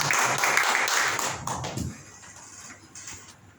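Crowd applause at a church service fills the first couple of seconds, fairly loud and dense, then fades into quieter room noise.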